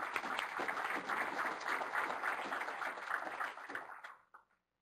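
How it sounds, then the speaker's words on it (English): Audience applause at a NASA Lunar Science Forum welcome session fills a conference room, a dense steady clapping that holds for about four seconds before tapering off and dropping to silence. "Could we please give her a big round of applause?"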